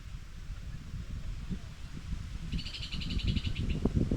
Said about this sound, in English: You can hear the hissing voice of the